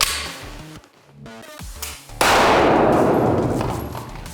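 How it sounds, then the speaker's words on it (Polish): A single loud gunshot at a shooting range, a sharp crack followed by a long ringing decay, after some quieter metallic clinks. "Kurek, jeszcze raz oddaj strzał."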